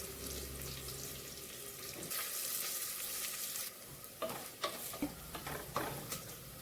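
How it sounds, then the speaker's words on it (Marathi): Tomato sautéing in a pan for bottle gourd curry, a soft close sizzle that swells into a brief hiss, followed by a few stirring knocks and scrapes, no talking. "आणि टॅमॅटो घेतलाय एक छोटा तो घालूया आपण ही परतून घेऊया"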